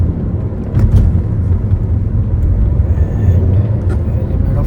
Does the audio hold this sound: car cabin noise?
yes